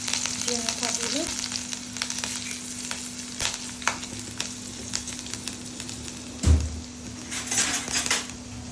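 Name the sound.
chopped green chilli frying with cumin in a pan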